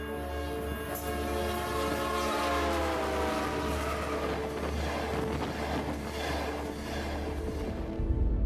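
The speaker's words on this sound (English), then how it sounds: "Think about how the pitch of a train whistle drops as it races past." A train horn blares loudly and steadily over the low rumble of passing rail cars, holding for several seconds before the sound tapers off at the end.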